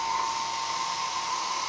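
A hair dryer blows in a steady, continuous whoosh with a whining tone throughout, used while setting a child's freshly Chinese-cut hair, close and loud with no talking.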